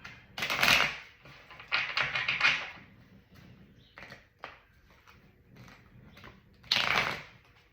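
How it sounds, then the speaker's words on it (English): Tarot cards drawn and shuffled at a reading table, giving bursts of crisp slapping and riffling taps, loudest near the start and again near the end, with quieter flicks in between and no talk. "I'm gonna get a couple more cards out here"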